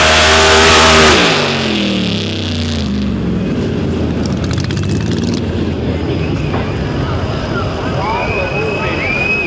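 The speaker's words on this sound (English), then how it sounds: "the thunder from these engines cracks through the peaks" Outlaw Pro Stock drag racing engines roar in a loud, thunderous burst, then settle into a sustained, rumbling roar that carries on from farther away.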